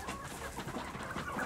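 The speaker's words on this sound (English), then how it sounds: "I was out feeding the chickens" Farm chickens cluck continuously at close range, a busy overlapping chatter of short calls from several birds with no pauses.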